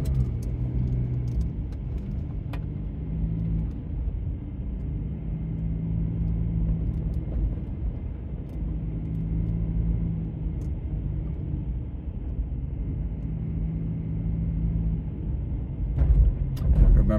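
A car rolls slowly through a trailer park in West Georgia, a low, steady engine rumble and tire noise heard from inside the vehicle, with a few faint clicks and a brief louder bump near the end.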